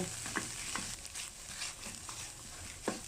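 Ingredients for a canned fish chili paste being stir-fried over medium heat, a quiet steady sizzle with occasional spatula scrapes and taps against the pan.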